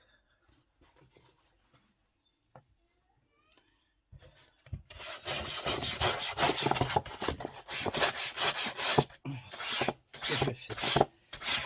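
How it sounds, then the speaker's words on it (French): A dry brush scrubs a household surface with quick, rough back-and-forth strokes that start after a soft spoken remark and grow loud and steady, with brief pauses between bursts. "c'est avec une brosse sec. Je vais retirer."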